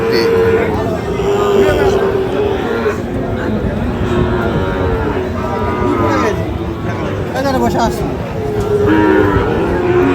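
Sahiwal-breed cattle low and moo repeatedly amid a busy crowd, with many people talking and calling out all around in a noisy outdoor livestock market in Bangladesh.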